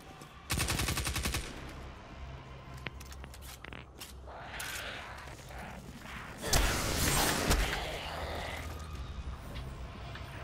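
Submachine gun fire in the video game Destiny 2 rattles in rapid bursts, with one long sustained volley up front and more shots and mechanical clicks later, amid game effects.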